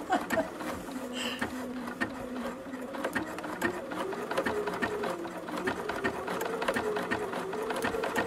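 A Bernina sewing machine stitching fabric, a fast steady mechanical whir with rhythmic needle clatter, close and continuous.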